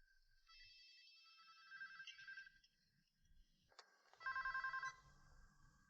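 A telephone rings in a quiet room, two bursts of a bright electronic ringtone separated by a short gap, fairly close and alone with no talk over it.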